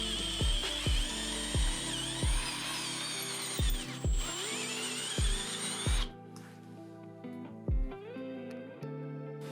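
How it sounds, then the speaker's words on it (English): A power drill bores out a hole for a tap while bad threads are repaired, a high whine running in repeated bursts with sharp low thumps in a steady rhythm, close and loud, then easing off near the end. "When it comes to drilling the hole out for the tap"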